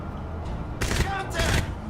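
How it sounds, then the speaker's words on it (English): Gunfire from the video game Crysis, two short loud bursts of rapid shots close together over a steady low game background. "Enemy units headed your way. Taking fire!"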